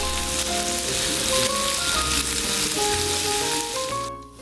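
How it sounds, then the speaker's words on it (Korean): Beef brisket slices and chunks of pufferfish sizzle loudly on a hot grill, a dense continuous crackling hiss with no talk over it, easing slightly at the very end. "삼합계의 신흥 강자 차돌박이 보고구이는 익는 소리부터 오감을 자극합니다."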